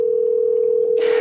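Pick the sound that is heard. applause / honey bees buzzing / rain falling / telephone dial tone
telephone dial tone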